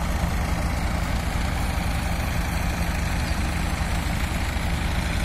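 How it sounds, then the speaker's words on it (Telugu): Three tractors run continuously near the High Court construction site at Amaravati, pumping out water, giving a dense, steady low engine drone with no breaks, close and loud. "ఈ ట్రాక్టర్స్ మాత్రం రన్ అవుతున్నాయి,"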